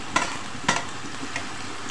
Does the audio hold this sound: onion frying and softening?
yes